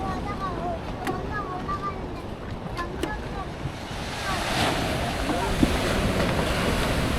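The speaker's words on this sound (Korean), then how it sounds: "파도가 치고 옆에서는" Ocean waves break at Jungmun beach on Jeju in a continuous, rushing surf mixed with wind, with a few faint chirps early on and the wash growing slightly louder toward the end.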